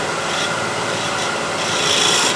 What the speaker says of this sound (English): Scraper